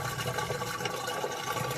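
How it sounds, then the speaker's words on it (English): Steady watery churning and rushing, like a washing machine running, heard at moderate distance and fairly quiet, with no talking. "There is the washing machine running."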